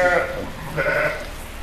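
Sönmez sheep, a high-milk, prolific breed, bleat close by on a farm, two drawn-out wavering calls over low background noise.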